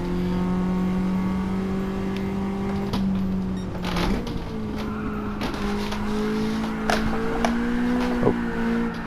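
Drift car in Gran Turismo 7 on grippy tires, engine holding a steady droning note that climbs as throttle is added, with brief tire scrubs and sharp clicks, loud and close with no talking.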